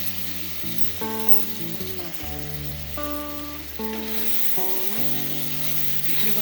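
Marinated chicken sizzles in soybean oil in a frying pan, a steady, dense crackle that runs the whole time beneath a layer of tonal background music.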